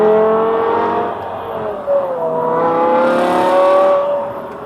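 A modified BMW E60 M5 with a 550 bhp V10 accelerates through long gears, a smooth rising engine whine heard from inside the car that climbs in pitch, dips at a shift, then builds again without speech.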